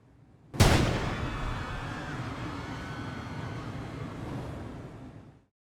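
A single loud gunshot fires in the video game No, I'm Not a Human. It hits hard and alone, then leaves a long, rumbling reverberant tail that fades over several seconds.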